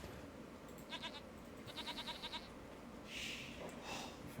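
Sheep bleat in the Age of Empires game on the Arabia map, two short bursts of rapid, faint calls sitting in steady game ambience, with no talking.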